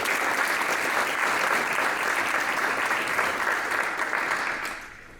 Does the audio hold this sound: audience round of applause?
yes